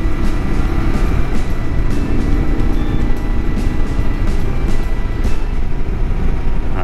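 A Kawasaki KLR adventure motorcycle is ridden hard through corners, its engine a constant loud drone blended with heavy wind rush, close and unbroken throughout.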